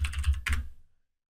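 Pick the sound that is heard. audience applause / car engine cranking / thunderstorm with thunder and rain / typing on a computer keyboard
typing on a computer keyboard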